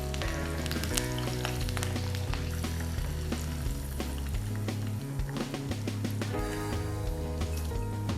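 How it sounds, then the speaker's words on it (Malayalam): Halved green chillies and curry leaves fry in hot oil for chicken 65, heard as a loud, dense, continuous sizzle with crackles and pops, while a rhythmic thumping music bed plays underneath throughout. "സെയിം ഓയിലിലേക്കൊരു 4-5 ഗ്രീൻ ചില്ലി നടുവേ കട്ട് ചെയ്തതും ഒരു 3 കറിവേപ്പിലയും കൂടെ നമുക്കൊന്ന് ജസ്റ്റ് ഒന്ന് ഫ്രൈ ചെയ്തെടുക്കാം"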